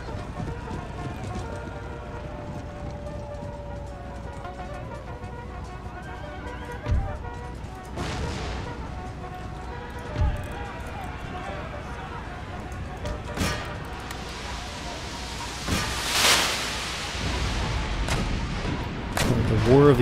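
Artillery in an Empire: Total War battle fires scattered, heavy booms over a dense field din of horses whinnying and hooves clattering.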